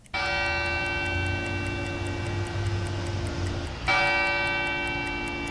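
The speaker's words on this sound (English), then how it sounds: "The bells at San Fernando Cathedral rang for a full minute." The large bells of San Fernando Cathedral in San Antonio ring out loud and sustained for a minute, their tones hanging and overlapping, with a fresh strike near the end renewing the full, resonant peal.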